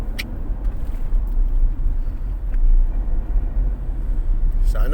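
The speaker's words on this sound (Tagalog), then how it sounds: "Sana ganito araw-araw para maganda naman ang daloy ng mga sasakyan." Road traffic flowing along a Philippine street near Sibirina Diamond, a continuous low rumble of passing cars and engines heard from close by, steady and fairly loud.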